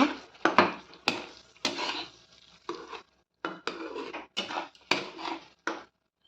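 Spiced food with a little chilli powder being stirred and sautéed in a pan, a close series of scraping, clattering strokes in irregular bursts with a soft sizzle beneath and a brief pause midway.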